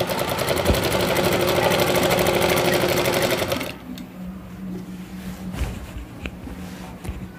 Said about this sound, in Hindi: उसके बाद हम इसको कट तक सिलेंगे, जहाँ हमारा कट है वहाँ तक सिलेंगे इसको।